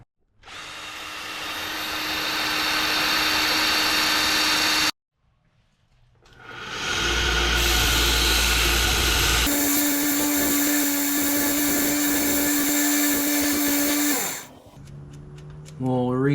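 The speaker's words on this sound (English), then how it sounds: "then I'll clean this up on the bench sander" A bench sander grinds and cleans a part from a Weber carburetor swap on a 1986 Mazda B2000, giving two loud, steady whirring bursts with a short pause between them, then winding down at the end.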